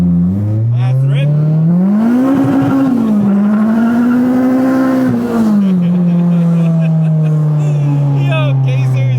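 Honda Integra Type R with a K24 engine revving hard on a dyno, a loud sustained wail rising and falling through the pull before dropping back, with voices talking over it.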